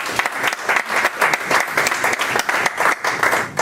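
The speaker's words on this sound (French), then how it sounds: "j'aimerais que vous donniez une bonne main d'applaudissement pour votre effort." An audience at a church sermon breaks into a burst of applause, dense clapping that rises and falls in loud waves for several seconds with no talk over it.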